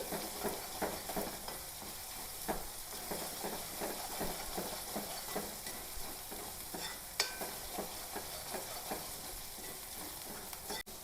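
Green chilies, ginger and garlic fry in a pan with a quiet continuous sizzle, broken by regular scraping strokes of a spoon stirring them.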